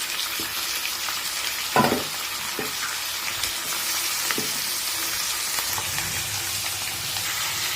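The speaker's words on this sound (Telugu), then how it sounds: "మటన్ తీసుకొని ఇందులో వేసేసుకోవాలి" Mutton frying in a pan for a Telangana-style curry, a steady sizzling hiss with scattered crackles and a few louder stirring scrapes, no voices.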